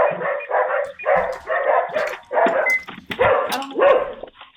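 A dog barks repeatedly at a house, with loud, close, rhythmic barks and some yips in quick succession.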